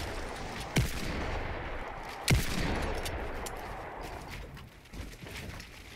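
Desert Eagle pistol shots in Fortnite, two sharp cracks about a second and a half apart over a steady game background, followed by a softer impact later.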